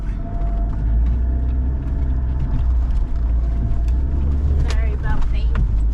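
A vehicle towing an off-road camper trailer jolts over a bumpy track, its low engine and road rumble steady and close, with small knocks and rattles and voices faintly audible.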